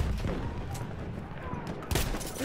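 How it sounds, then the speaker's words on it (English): Rapid gunfire crackles in a Battlefield 1 match, a busy exchange of shots with a sharp burst standing out near the end, bursts and distant booms blending into a dense battlefield din. "There's a machine gun."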